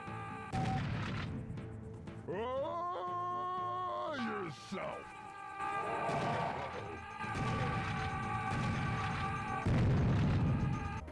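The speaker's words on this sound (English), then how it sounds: "bombers who lob grenades, and the iconic and infamous screaming kamikaze." Serious Sam 4 game combat: the headless kamikaze enemies let out long rising and falling screams, followed by loud booming explosions and rumbling blasts that come one after another with little pause.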